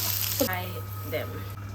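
Chili pakoras frying in hot oil, a steady close hiss and sizzle with a short burst of bubbling and crackle partway through.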